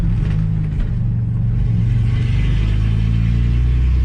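A loud Ford AU Falcon drift car with a Fairlane front revs and accelerates, its engine a heavy, continuous rumble that stays steady and close throughout with no voices.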